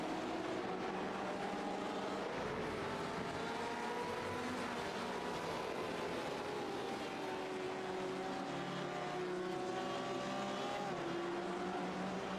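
Race cars in a GTE-class sim racing game roar together, engine notes layered and shifting pitch continuously, with faint tire squeal mixed in the steady loud drone.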